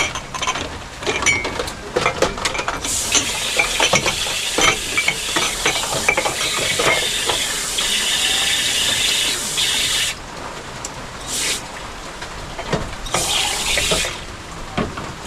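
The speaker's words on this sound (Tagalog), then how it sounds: "hugas muna tayo ng pinggan para may magawa naman tayo ngayong araw na ito" Tap water runs into a sink while dishes are washed after a meal, a steady splashing wash with intermittent clatter and brighter gushes of flow, fairly close and continuous with no talking.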